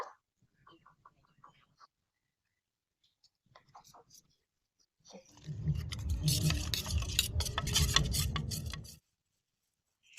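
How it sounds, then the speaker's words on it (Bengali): Shredded cabbage chop ingredients are mixed by hand in a bowl, a close, steady rubbing and squishing for a few seconds after some faint scattered handling noises. "এবার আমি এগুলোকে একটু মিশিয়ে নিচ্ছি"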